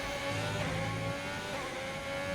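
F1 2020 video game race car at Spa under short shifting, a continuous close engine drone holding fairly steady revs for a couple of seconds, alone without voices.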